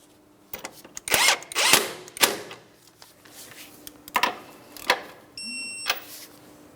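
Power tool running down the outer tie rod mounting nut on a Mitsubishi Outlander, heard as several short whirring bursts with clicks and pauses in between, fairly close and moderately loud.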